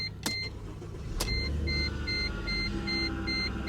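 A Mercedes S63 AMG emits short, evenly spaced electronic beeps in a steady repeating pattern, alongside a couple of sharp clicks and a low idling hum.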